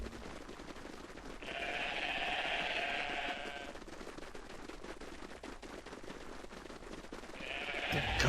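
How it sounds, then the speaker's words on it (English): Goats bleating in the video game Everything, two faint, drawn-out nasal bleats, one early and one at the very end, over a quiet crackling background with no talking. "They're goats."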